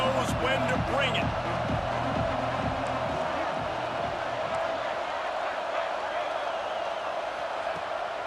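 A stadium crowd in a college football video game, South Carolina vs Texas A&M, roars and cheers loudly and continuously, with thumping stomps or chants early on and a voice talking over the noise.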